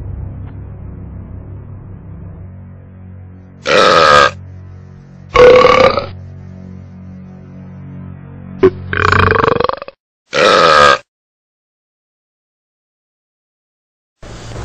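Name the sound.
very large burp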